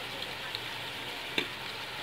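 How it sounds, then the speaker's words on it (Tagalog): Ground pork sizzles steadily while being sautéed in a pan for pancit palabok, a constant hiss with a couple of faint clinks and one sharper tap of a utensil. "Isama ang ground pork. Igisa lang ito ng mabuti at simplahan ng asin."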